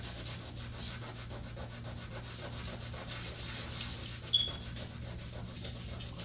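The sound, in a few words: scrubbing rust stain off linoleum floor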